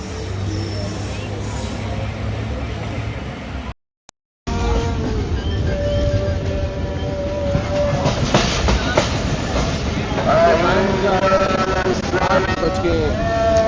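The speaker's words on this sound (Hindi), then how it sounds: "ट्रेन हमारी रायवन जंक्शन अप्रोच बनाने के लिए जा रही है" The Musa Pak Express passenger train runs steadily on its Multan to Lahore route, with a loud, continuous rumble and rattling wheel noise, rising clatter and some squealing tones later, and voices around it.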